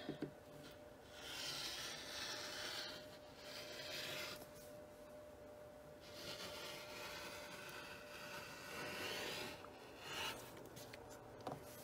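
Fabric is trimmed along the seam line of a pillowcase, making soft, continuous rasping and rubbing strokes in several long passes, close and fairly quiet with no talking.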